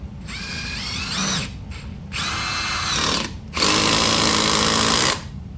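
Milwaukee Surge hydraulic impact driver running in drill mode, three bursts of steady high-pitched motor whine with brief pauses between them, the last burst loudest and longest.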